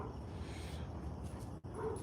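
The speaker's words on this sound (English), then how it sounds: "There's a dog going by here." A dog yips and whimpers excitedly at another dog passing by, fairly close and steady over a continuous low background, with a brief drop in sound near the end.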